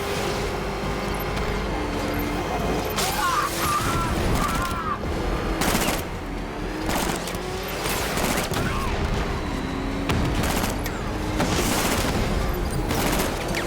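Dense sustained gunfire in Batman: Arkham Knight, overlapping automatic bursts and impacts pounding continuously beneath engine rumble and game chaos, with voices occasionally over the top.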